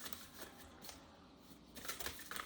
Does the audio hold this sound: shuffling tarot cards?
yes